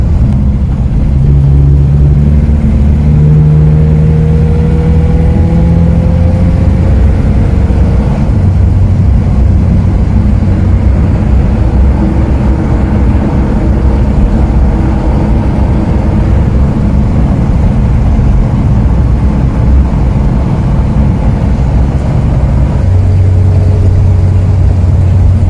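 A 1962 Simca Aronde Rush Ranch with a 62 hp engine cruises along, its steady engine drone and road rumble loud and constant, with a few shifts in engine pitch as it drives.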